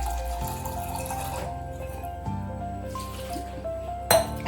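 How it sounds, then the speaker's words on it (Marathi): Water is poured from a vessel over chopped potatoes and cauliflower for pav bhaji, a steady splashing stream running for a few seconds close by, with a low hum underneath and a brief louder splash near the end. "आता चला आपण पाणी टाकूया।"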